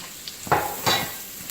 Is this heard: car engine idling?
no